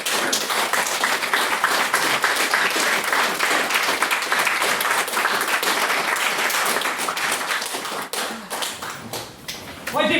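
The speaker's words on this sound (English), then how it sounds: "Could I please get another round of applause for our guest chair?" Sustained audience applause at a formal debate fills the hall, dense and steady for about eight seconds before thinning briefly and swelling again at the end.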